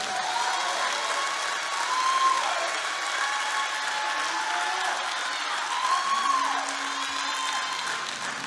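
A church congregation claps its hands during a sermon, with sustained applause mixed with scattered cheers and whoops that swell and ease over the stretch.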